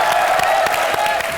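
A studio audience on a comedy show claps and cheers loudly in a dense, sustained burst of applause that lasts through the brief moment, with a tonal hum running underneath.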